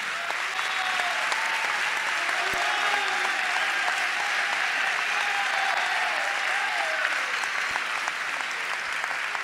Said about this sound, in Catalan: demano un fort aplaudiment per ells